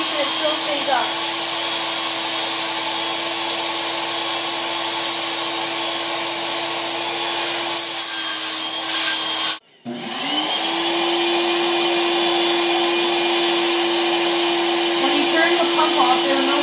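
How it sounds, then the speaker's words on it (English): Small air pump running steadily to hold a cardstock wing aloft, a constant loud whirring hum with a tonal drone that cuts out abruptly for a moment, then restarts and runs on. "So now I'm just going to stick it on top and turn the pump on."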